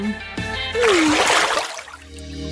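A vegetable drops into water in a cartoon food challenge, giving one splashy burst midway with a gliding musical tone, then quieter trickling tones.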